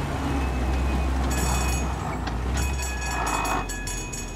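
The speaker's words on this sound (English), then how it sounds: "I'm just gonna go behind the train." A train rolls past in the video game Mafia Definitive Edition, a loud continuous rumble and rattle of railcars with brief bright metallic screeches, steady throughout and fading slightly at the end, with no talking.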